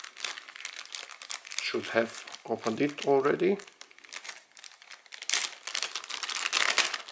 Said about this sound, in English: Took out this plastic bag.